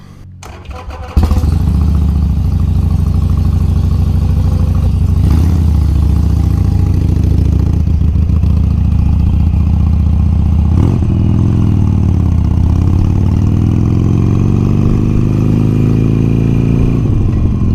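A Harley motorcycle near Stuart Beach, Florida, starts with a short crank and then settles into a loud, close, steady idle with a deep lumpy rumble. The note revs slightly once or twice and nobody speaks over it.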